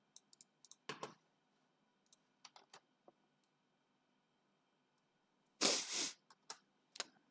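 Sparse keystrokes on a computer keyboard while entering Python code, scattered single clicks and short clusters, fairly close and quiet, with one louder double clack near the end.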